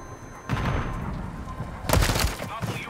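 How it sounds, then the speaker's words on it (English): Two heavy booming blasts from a grenade explosion in a video game, each a broad loud roar that lingers and fades, the second stronger, over a rumbling battlefield background. "grenade!"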